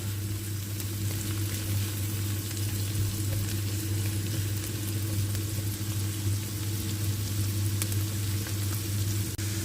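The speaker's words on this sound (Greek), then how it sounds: "προσθέτω και τις πιπεριές και τις σοτάρω και αυτές για λίγο" Onions and peppers sautéing in a pan for a Greek shrimp and rice dish, a steady close sizzle that carries on without a break under a low constant hum.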